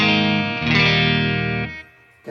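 An electric guitar played through a Bogner Ecstasy Classic amp with the B1 brightness switch engaged rings out in sustained, bright chords, loud and close, then cuts off abruptly.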